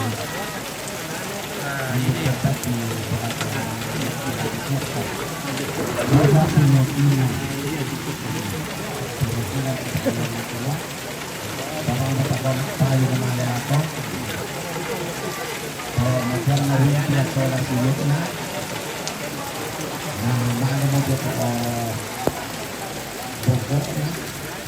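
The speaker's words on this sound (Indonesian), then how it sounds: "Oke, enaknya hujan di Sangatta, Kaltim." Steady heavy rain pours down in Sangatta, East Kalimantan, during an outdoor Toraja wedding ceremony, a constant hiss on surfaces, with people speaking intermittently over it.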